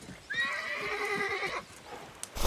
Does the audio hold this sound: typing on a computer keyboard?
no